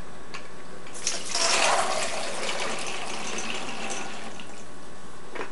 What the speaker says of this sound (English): Pour some, dump out the water, otherwise it'll overflow.